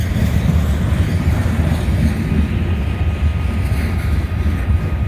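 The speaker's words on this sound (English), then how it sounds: "And the other one's a unit train, ethanol train." A long ethanol unit train rolling past a crossing on Canal Ridge Road, a continuous heavy low rumble of wheels and cars that stays steady and loud throughout, with a faint high steady tone above it.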